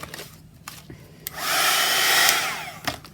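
A blow dryer runs on plastic, a steady whooshing roar that rises for about a second and then cuts off, with scattered clicks and handling noises around it.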